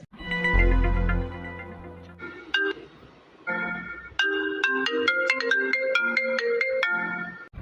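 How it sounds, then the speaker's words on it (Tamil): A phone ringtone plays loudly and alone, an electronic melody of bright stepped tones that briefly stops and then resumes with a faster, repeating sequence of notes. "ஃபோன் அடிக்குது பார், உனக்கு தான் அடிக்குது, எடுத்து பேசு."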